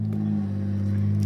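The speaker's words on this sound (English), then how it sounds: "Dang, that truck is loud." A loud truck rumbles past close by, a steady low droning engine tone over its whole brief length with no talk.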